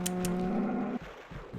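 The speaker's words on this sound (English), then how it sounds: "Is there unfriendlies outside? No, just cows." A cow moos in the video game Minecraft, one loud, close, drawn-out low call that cuts off abruptly, followed by softer rustling game ambience.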